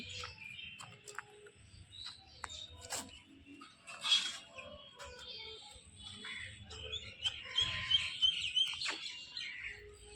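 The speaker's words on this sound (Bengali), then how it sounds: "কি সুন্দর পাখির আওয়াজ শোনা যাচ্ছে, কিচির মিচির।" Birds chirp and tweet steadily with quick, high calls, some brief flurries, heard outdoors at a fair at moderate distance over faint low background rumble.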